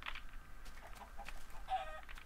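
A chicken in the video game Minecraft gives a few short, soft clucks at the start and again near the end over a faint background, with no talk.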